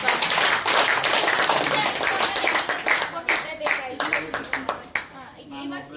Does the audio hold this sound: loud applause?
yes